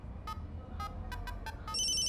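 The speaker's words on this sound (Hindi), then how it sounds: "दूसरा कस्टमर है, फोन उठा लेता हूँ।" A telephone rings in a repeated electronic ringtone pattern of short bursts, moderately loud over a quiet background, with no talking.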